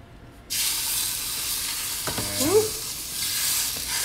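Steady frying sizzle as a lamb rack sears in a pan starts abruptly and continues as a loud, hissing crackle, with a brief clatter of metal partway through.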